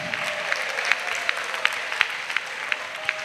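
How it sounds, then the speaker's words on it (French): Applause at a missionaries' retreat in Côte d'Ivoire, a steady bed of crowd clapping with a few sharper, louder claps standing out in a loose regular rhythm; no distinct cheering stands out. "Acclamation avec vous"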